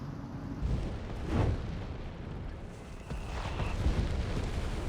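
An off-map espionage flame strike barrage in Company of Heroes 3 lands as a series of deep, rolling booms and rumbling blasts over a continuous battle din, fairly distant and moderately loud.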